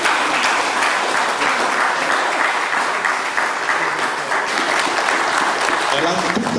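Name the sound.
applause for the minister at a book launch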